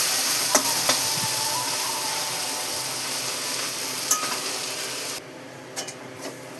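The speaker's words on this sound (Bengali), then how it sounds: "শাক ভাজা কমপ্লিট," Kalmi greens (water spinach) frying in a pan, a soft continuous sizzle with light scraping and stirring clicks, growing quieter near the end.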